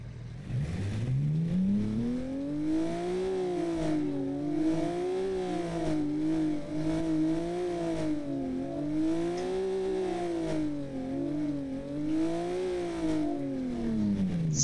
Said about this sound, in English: Let's fire up this beautiful flat six engine.